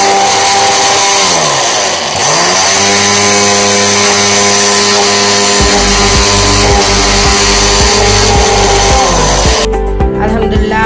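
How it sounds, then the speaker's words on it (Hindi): An electric grinder runs steadily throughout as dried ginger pieces are ground into powder, a loud continuous whirring motor hum that shifts pitch as the load changes, with a harsher rattling burst near the end. "अदरक पीस चुका है, ग्राइंड हो चुका है"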